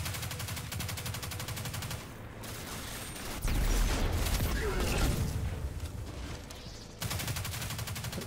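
Close, heavy gunfire from a hard-kicking gun in the Destiny 2 beta on the Inverted Spire map, fired in rapid bursts with a blast in the middle and surrounding combat noise under an energetic music bed.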